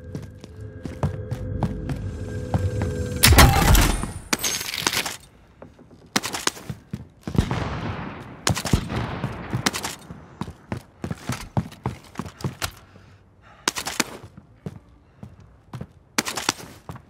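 Gunfire in the video game Call of Duty: Modern Warfare: sharp, loud bursts of shots in clusters over a steady game background, with short quieter gaps between volleys.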